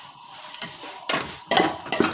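Ground gum and nuts being stirred into a Sindhi panjiri mixture in a pan, with scraping and rustling strokes of a spoon coming in a few louder bursts over a soft sizzle.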